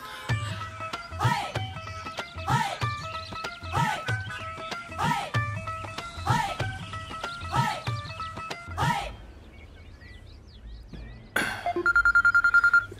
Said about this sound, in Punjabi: ਕਿਹਦਾ ਫੋਨ ਆ ਗਿਆ?